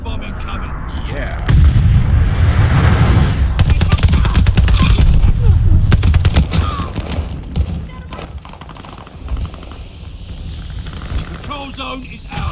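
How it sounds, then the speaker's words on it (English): Glide bomb explosions and gunfire in Call of Duty Vanguard: heavy booms and rattling automatic fire form a dense, loud barrage before thinning into scattered shots, with voices heard through the game sound. "Enemy's got a glide bomb incoming"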